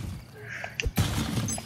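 Objects are smashed in the Costume Quest video game, a sudden crisp shattering crash after a few soft clicks, with brief tinkly debris afterward.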